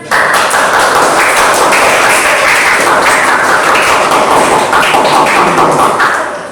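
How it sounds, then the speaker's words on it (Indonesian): A class in a school lesson breaks into loud, close, continuous applause, many hands clapping in a dense, even roar that holds for about six seconds before tapering off. "Beri tepuk tangan buat kita semua dulu,"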